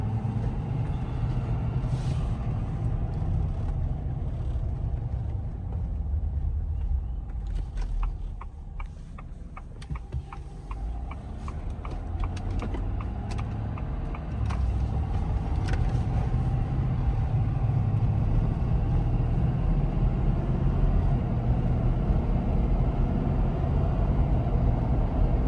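A lifted Ford F250 pickup with the 6.7 Powerstroke diesel driving on local roads, its low, steady engine rumble and road drone continuous throughout, with a brief dip in level midway.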